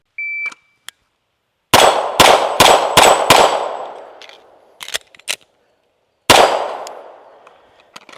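A pistol fires a fast string of shots at steel dueling tree targets, each crack followed by a ringing clang, five in quick rhythm, then a pause before another shot and ring, close and loud.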